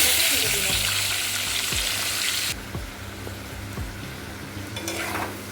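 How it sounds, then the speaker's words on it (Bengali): Potatoes frying in hot oil with whole garam masala, a steady loud sizzle with occasional stirring scrapes and clinks, the hiss dropping suddenly partway through and then building again. "আলুটা লাল লাল করে ভেজে নিলাম।"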